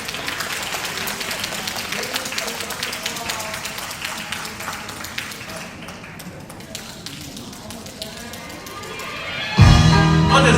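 An audience claps together in a dense, steady round of applause for about nine seconds, close and lively, before a louder, fuller burst takes over at the end.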